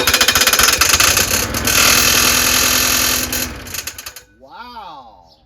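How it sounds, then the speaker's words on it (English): A Murray Briggs 6HP 20-inch push lawnmower is pull-started as its blade strikes the bottom baffle, giving a loud, rapid mechanical rattling clatter for about four seconds that then stops, followed by a brief wavering voice-like tone. "But when I pull it, the blade hits the bottom baffle."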